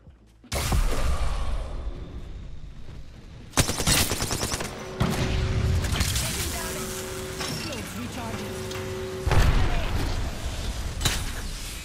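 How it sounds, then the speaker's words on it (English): Rapid gunfire bursts and booms in the Apex Legends battle royale shooter, with dense overlapping shots, impacts and explosions running almost continuously over several seconds, loud and close. "Bomb bots are shooting at me."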